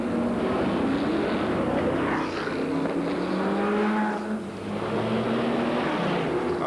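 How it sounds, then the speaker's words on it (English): Engines of 1960s and 1970s sports racing cars, including a Ford GT40 and Ferrari, at the Montlhéry historic race circuit: a continuous loud roar with overlapping revving tones rising and falling as cars pass, with no talk. "A mouth-watering lineup of glorious sports cars of the 60s and 70s."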